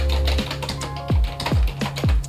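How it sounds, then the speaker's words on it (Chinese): Typing on an actto retro Bluetooth keyboard with raised matte keycaps and a mechanical-like feel, giving close, crisp clacking keystrokes in a quick irregular rhythm with a few heavier thuds. "打字起来是这种哒哒哒的声音"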